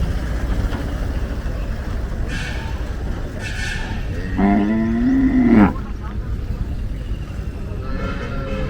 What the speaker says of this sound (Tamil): இதில் ரெண்டு மாடு வருது